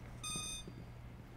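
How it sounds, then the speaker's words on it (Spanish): A metal detector beeps in the Rainbow Six Mobile game as a player passes through it: a short burst of bright, stacked electronic tones lasting about half a second, mid-volume over a steady low hum, with no talking. "cuando pasas por un detector de metales suena eso, lo de ¡pip!"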